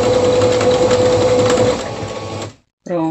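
A sewing machine stitching a zigzag at the corner of a fabric hexagon basket, a loud steady close-up whir that slows and stops, followed after a short pause by a brief burst of speech.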